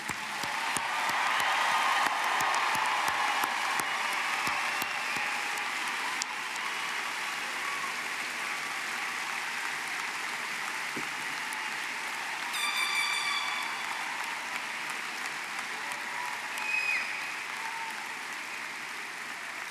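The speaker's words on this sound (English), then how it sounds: "Please join me in giving the class of 2025 a final round of applause" Applause at a university graduation ceremony for the class of 2025, sustained crowd clapping that is loud at first and then eases to a steadier level, with faint chirps near the end and no speech.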